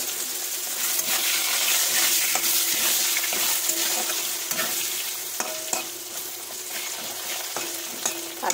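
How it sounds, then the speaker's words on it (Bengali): Potatoes with panch phoron spices fry in a pan, a bright continuous sizzle broken by repeated scraping stirs and occasional sharp metallic taps of the utensil. "আলুটা তো বেশ সুন্দর করে মশলার সঙ্গে একটু নাড়াচাড়া করে ভেজে নেব।"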